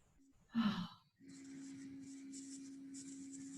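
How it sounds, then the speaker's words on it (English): A single deep, full breath drawn during a men's stretching and de-stress class, close and soft, followed by a low steady background tone. "Take some more deep, full breaths, waking up breaths."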